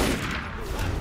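Gunfire in Assassin's Creed Unity, a dense, loud burst of shots filling the whole second with no pause between them.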